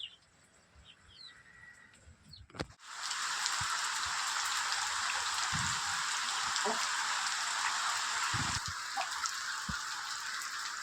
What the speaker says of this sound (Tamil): மழை வருது மழை வருது